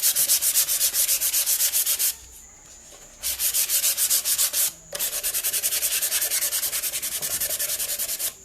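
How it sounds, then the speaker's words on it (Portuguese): Sandpaper scrubbing a wooden drawer cabinet by hand, rapid rhythmic rasping strokes in loud close bursts separated by two short pauses. "Deixa eu lixar."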